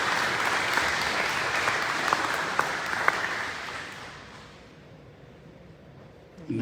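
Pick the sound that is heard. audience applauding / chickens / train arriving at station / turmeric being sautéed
audience applauding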